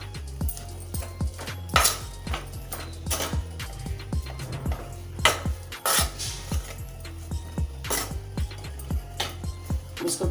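Semolina dough for gulab jamun being stirred with ghee in a metal pan, a steady run of close scraping and clinking strokes with a low hum beneath, no voices.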